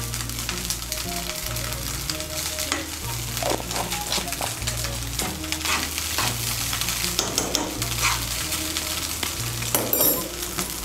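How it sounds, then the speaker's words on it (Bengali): Chira pulao with vegetables and a spoon of ghee being stirred in a hot pan, steady sizzling with scraping spoon strokes over a continuous background music track. "ঘিটাকে মিশিয়ে নেব।"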